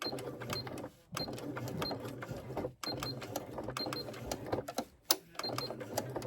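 Sewing machine stitching a handbag with a Santa face design, running in steady mechanical bursts with short pauses between runs, close and fairly loud, with no talking.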